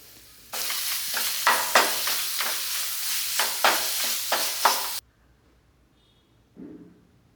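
Garam masala and garlic ginger paste hiss loudly in hot oil in a pan for a sardine curry, with steady sizzling and repeated stirring scrapes for several seconds before cutting to near silence and a brief faint clatter.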